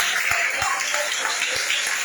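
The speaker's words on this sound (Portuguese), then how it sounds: "Dá uma salva de palmas para Jesus" A church congregation applauds for Jesus during a service, a dense, steady roar of many hands clapping at once, loud and continuous across the short stretch.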